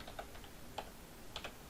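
Math problem typed on a computer keyboard: a few quiet, separate key clicks in irregular small bursts, including a quick pair near the end, against faint background hiss.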